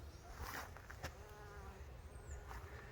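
Faint, steady buzzing of many honeybees around a hive with many guard bees out, with a few louder passes of individual bees close by.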